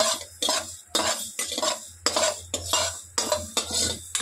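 Mustard and fenugreek seeds frying in a hot pan, rhythmic metal spoon scrapes against the pan about twice a second, close and clear, no talking.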